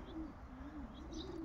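Pigeons coo faintly and softly in a short stretch, a low, wavering murmur with light background noise.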